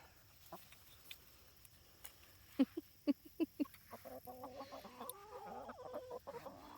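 Backyard chickens and a rooster cluck close by in short, scattered bursts that grow busier and more continuous toward the end, with soft background noise.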